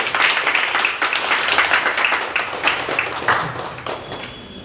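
An audience at a business plan meeting claps steadily for a company director, a dense continuous patter of many hands sustained throughout at close range.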